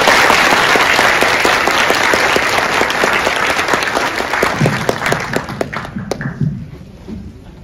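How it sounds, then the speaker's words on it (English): Audience applause at a school business plan competition, loud dense clapping with individual sharp claps standing out, tapering off and thinning to scattered claps before stopping near the end. "Let's give them a round of applause."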